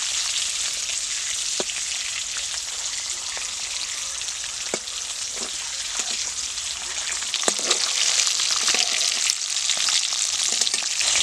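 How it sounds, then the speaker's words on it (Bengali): Sliced eggs fry in hot oil seasoned with turmeric and salt in a kadai for Bengali egg posto, a steady close sizzle with scattered pops and crackles throughout, no voices. "কেটে রাখা ডিমগুলো দিয়ে দেব ডিমগুলো কিন্তু আমি বেশি লাল লাল করে ভাজবো না"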